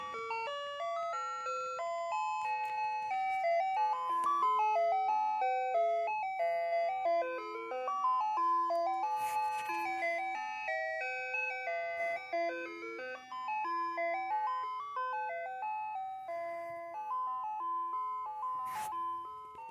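Ice cream truck music box plays Turkey in the Straw as a bright, steady chiming melody, loud and continuous throughout with no talking.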